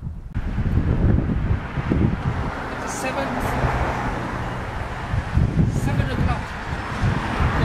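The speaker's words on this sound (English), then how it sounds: "The wind blow from the north." Wind blowing from the north rumbles and buffets against a microphone outside a house in Hartford, Connecticut, loud and gusty throughout, with speech mixed in over it.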